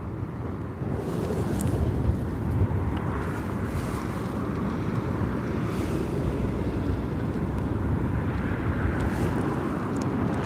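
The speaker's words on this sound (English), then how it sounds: "That is a big looking plane now. Yeah, you can definitely hear it now as well." A large airplane passes overhead at a beach around sunset: a steady, broad low rumble of jet engine noise, moderately loud and constant throughout, with some wind buffeting and no talk.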